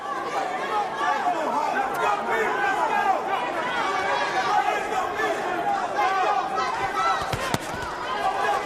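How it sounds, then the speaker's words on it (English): The crowd at a professional boxing match keeps up a steady roar and murmur throughout the arena, heard under continuous commentators' talk, with a couple of sharp thuds near the end. "Crowd's into it here. A lot of people up on their feet waving towels and everything else."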